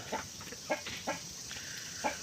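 A bird calls in short, repeated bursts, four or five evenly spaced cries over a steady background hiss, with no one speaking.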